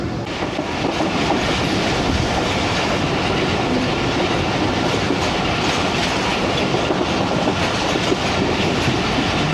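The 47UP Rehman Baba Express between Khanewal and Faisalabad rolls past Jaaniwala station, its wheels beating a loud, steady clickety-clack on the rails throughout, with no voices heard.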